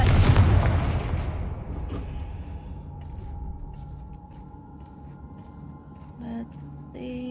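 A Confringo fire spell explodes in the video game Hogwarts Legacy: one loud, close blast at the start that rolls into a fading rumble, followed by faint game effects.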